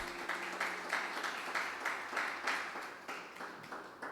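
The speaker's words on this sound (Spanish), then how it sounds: "Dele un aplauso al Señor." Applause from a church congregation during a sermon, a steady wash of many hands clapping at moderate loudness with a faint voice beneath.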